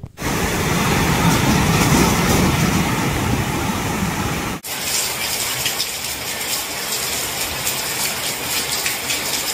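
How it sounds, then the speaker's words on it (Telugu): Rough sea waves along the coast between Kakinada and Uppada during a low-pressure spell churn in a loud, steady roar of rushing water that fills the whole clip, with a brief cut partway through. "ప్రస్తుతానికి కాకినాడ నుండి ఉప్పాడ వెళ్లే సముద్ర తీరం మాత్రం కొద్దిగా అలజడిగానే ఉంది"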